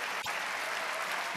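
A crowd at a table tennis match, the final of the 2012 Korea Open, applauds steadily as a broad, even wash of clapping with no clear breaks.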